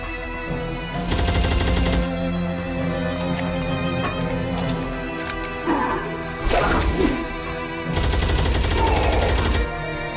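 Gunfire in the horror game Fobia St Dinfna Hotel: two loud bursts of rapid, close automatic shots, each lasting about a second, separated by crashing and thudding combat noises, with no talk.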